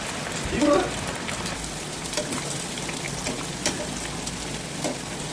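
Chicken pakoda fries in hot oil in a full kadai, giving a close, steady crackling sizzle like rain on a surface, with a few louder pops and stirring clinks.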